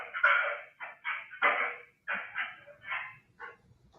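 Dog barking in a home after a shooting, caught on surveillance camera: a series of about nine short, sharp barks in an uneven rhythm, fairly close and alone, with no talk.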